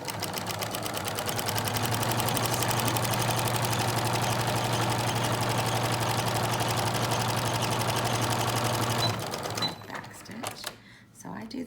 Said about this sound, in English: it needs to be sewn together